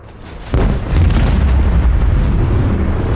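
Macro cannons firing in the Rogue Trader Warhammer 40k space combat game, a sudden loud boom followed by a sustained heavy rumbling roar that holds steady to the end.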